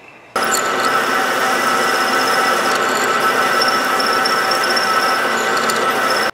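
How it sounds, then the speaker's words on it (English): A steady, loud whine of a drill boring out a bearing pocket in metal, grinding continuously for several seconds before stopping abruptly. "Drill that out big enough to where I can get a boring bar in there."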